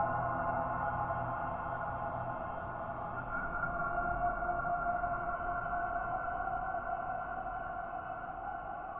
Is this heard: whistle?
yes